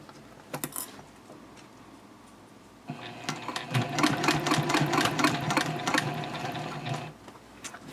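A sewing machine stitches through the bulky layers of a bowler bag: a few scattered clicks first, then a sustained fast whirring run of needle strikes before it stops, with no voices.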